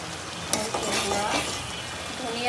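Garlic paste, ginger paste and turmeric powder sizzle softly in a pan while being stirred, with a steady frying hiss and a few light scrapes, and a voice faintly in the background.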